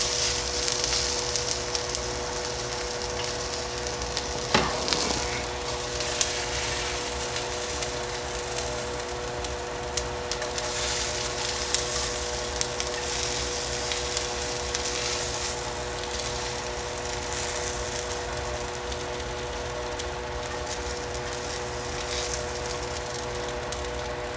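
Peppers and onions fry on a hot griddle for a cheesesteak sub, giving a steady, even sizzle that holds at the same level throughout, with a few sharp crackles breaking through near the start.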